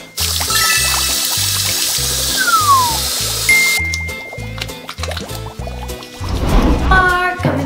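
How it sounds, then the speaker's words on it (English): Tap water runs and splashes during handwashing at home, a loud, close trickle and pour that shifts as hands move under the flow, with some background noise. "First thing we do is when we come back from outside is wash our hands."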